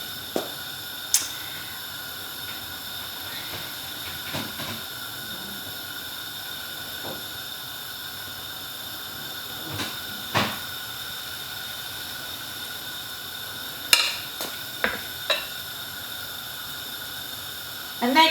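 Sweetcorn fritter batter frying in a hot pan of oil gives a steady, even sizzling hiss throughout, with occasional sharp pops and crackles rising above it.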